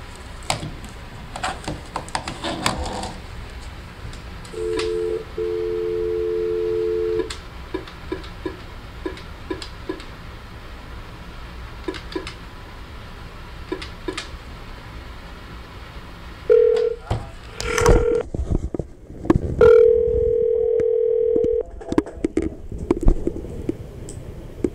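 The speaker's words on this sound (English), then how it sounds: "Attempted phone call to Morris Pettit." An attempted phone call in a quiet office setting brings a few short bursts of dialing tones and ring signals, separated by soft clicks and handset handling noises.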